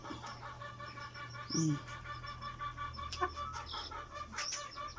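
Chickens cluck softly and intermittently nearby, with a few sharper calls over a quiet background hum.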